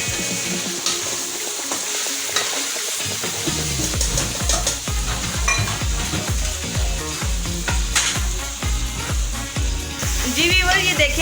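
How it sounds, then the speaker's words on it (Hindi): Meat for bhuna gosht fries and is stirred in a pot, a busy sizzle broken by repeated spoon scrapes and clanks, fairly loud and close, with no talking. "माँ जी इस गोश्त को भून रही हैं अच्छे तरीके से"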